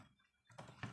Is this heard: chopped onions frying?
no